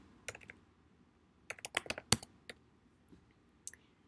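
Computer keyboard typing in quiet surroundings: scattered sharp key clicks, a few isolated taps and then a quick burst of several keystrokes in a row, close and alone.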